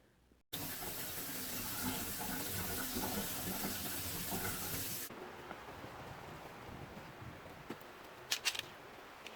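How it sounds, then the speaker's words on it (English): Running tap water rinsing greasy kitchen range hood filters in a sink, a steady close gush for several seconds, then the flow stops, leaving a few faint clinks and drips. "I may as well just let it soak for another 10, 15 minutes or so and then give it a good rinse."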